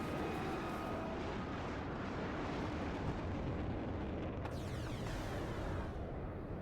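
Aircraft gun runs in the WARNO war game: a dense, continuous roar of jet noise and rumbling gunfire or explosions, with a sharp crack and a sweeping whine near the end.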